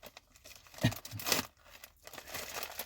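A sealed MRE package holding crackers and apple jelly is torn open by hand, giving a faint crinkly rip with a short crunchy burst and soft plastic rustling.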